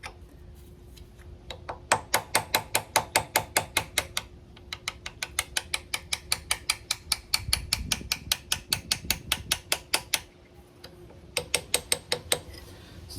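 Steel punch being hammered to drive a part back on a Coleman conversion 4x4 axle from a 1952 International L-122 truck, a long run of sharp, regular metallic blows at close range, with a short pause midway and no talk.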